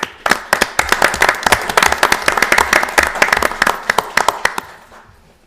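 A room of attendees at a township board of commissioners meeting gives a round of applause, dense clapping for about five seconds, fairly close and loud, then tapering off.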